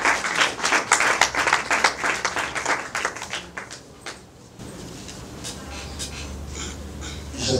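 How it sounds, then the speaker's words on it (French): Audience applause at a Congolese cinema awards ceremony, a dense burst of clapping that thins and fades over several seconds into a quieter hall murmur. "je vous demande de pouvoir applaudir très très fort."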